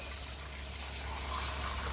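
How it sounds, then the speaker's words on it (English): Water runs steadily into a pot at a kitchen sink during dishwashing, a soft continuous gushing fill with a low hum beneath, close and fairly quiet. "One of the pots is already filling up with water."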